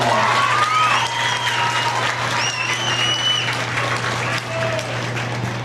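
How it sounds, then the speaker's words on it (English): A crowd at a county fair hog show applauds young men in the ring, a dense, steady clapping that fills the space, with whistles and cheers over a constant low hum. "let's give these young men out here a very well-deserved round of applause"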